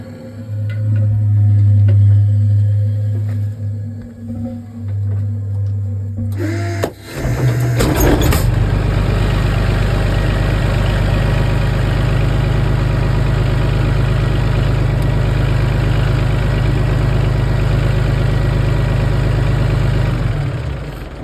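A heavy diesel infantry fighting vehicle engine in winter roars to life partway through and then runs steadily and loudly with a deep low rumble, after a quieter stretch of mechanical hum.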